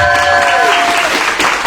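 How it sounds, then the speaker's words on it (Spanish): Audience applause at a book presentation for the book "Otro bosque", a dense burst of clapping filling the room at steady loudness for under two seconds. "démosle un aplauso a Lola por este libro"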